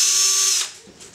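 A power driver whirs loudly for about half a second as it sinks screws holding a part down, then winds down into faint clicking.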